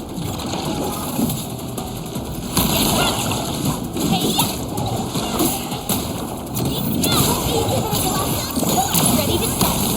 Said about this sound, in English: Careful! These water lamps spit acid!